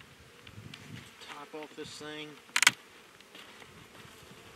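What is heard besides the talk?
honey bees buzzing around an open hive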